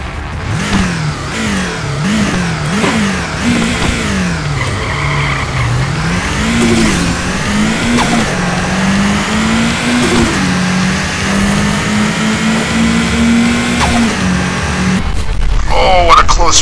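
A Subaru Impreza STI engine revs through repeated rising gear-change sweeps in a Nitro Nation drag race, loud and continuous with tire skid noise, and a voice talking over it.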